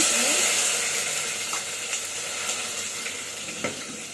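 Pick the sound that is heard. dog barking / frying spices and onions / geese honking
frying spices and onions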